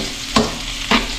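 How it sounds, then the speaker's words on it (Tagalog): Halved mud crabs stirred in a hot pan with sautéed garlic, onion and ginger, a steady sizzle of frying broken by two distinct scraping stir strokes. "Tapos igisa na rin natin yung ating mga alimango."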